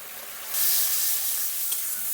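Tomato added to onion paste and Kashmiri chili frying in a pan, setting off a loud, sudden sizzle that holds steady as a close, bright frying hiss, with no talk.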